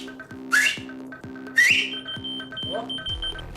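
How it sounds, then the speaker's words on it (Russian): Someone whistles two short rising notes at a whistle-responsive keychain, which answers each time with loud, rapidly repeating electronic beeps that pulse steadily nearby and continue after the whistling stops. "А именно брелок, отзывающийся на свист"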